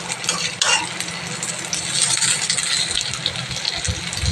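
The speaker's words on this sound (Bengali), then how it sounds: "চলো বড়া কটা ভেজে নিই দেখো বন্ধুরা বড়াগুলো সব ভাজা হয়ে গেছে" Vegetable fritters frying in a little oil in a wok, a close sizzle broken by scraping and clinking of a spatula against the metal, uneven and busy throughout.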